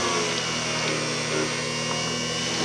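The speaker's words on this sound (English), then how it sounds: "if this was less full, I would probably turn the speed up on the mixer" An electric mixer whirs steadily through a full batch of nail polish, a dense, continuous motor drone with no breaks, close and fairly loud.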